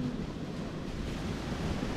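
Ocean waves wash onto a beach in St. Thomas, US Virgin Islands, as a steady broadband roar with some wind buffeting the microphone and no talking.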